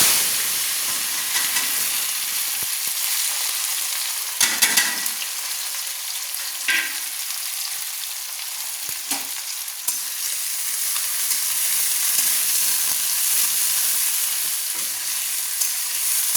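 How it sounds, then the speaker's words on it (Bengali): Chopped onions hit hot mustard oil and fry with a loud, continuous hiss and sizzle, broken by a few stirring scrapes, with no talking. "এবার আমি তুলে দিচ্ছি কোচানো পেঁয়াজ"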